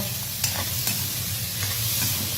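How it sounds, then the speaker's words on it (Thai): Pork and Chinese garlic stir-frying in a hot pan, a constant loud sizzle with a couple of sharp scraping stirs, no talking. "ใส่กระเทียมจีนไปสองหัวค่ะ ใส่พร้อมหมูเลย"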